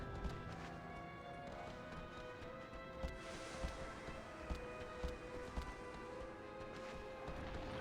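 Horse hooves clip-clopping in the PlayStation 2 game Shadow of the Colossus, a faint steady trot of hoofbeats off to one side under an ambient game soundscape, with no talking.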